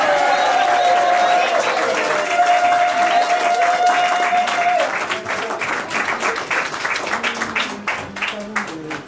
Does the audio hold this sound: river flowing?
no